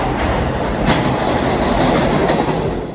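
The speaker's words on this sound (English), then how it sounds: "we're now going to get on a subway train along to Brooklyn" A New York subway Q train rides toward Brooklyn, giving a loud, steady rumble of cars on the rails with rhythmic wheel clatter and a few brief metallic squeals. No voices are heard.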